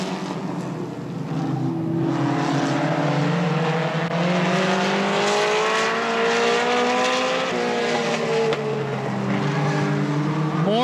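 Race cars at Tri City Motor Speedway thunder past on a green flag, loud and close, with overlapping engine tones climbing and sliding as the pack accelerates, a continuous roar across the whole stretch.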